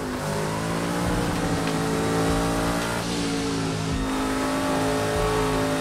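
A car engine in a sim racing game with an H-pattern shifter revs hard and steadily, holding a loud, buzzing drone with small pitch shifts as the car accelerates through a lap.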